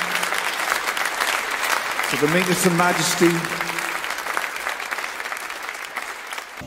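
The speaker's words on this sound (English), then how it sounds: "Let's give that applause loud and strong" A church congregation applauds loud and strong in a Presbyterian service, sustained clapping with a brief sung or spoken line rising over it midway.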